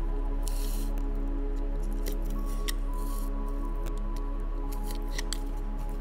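Scissors snip through the insulation on copper electrical wire while wiring an outlet, giving several sharp clicks and cuts over a steady low hum, close and fairly loud.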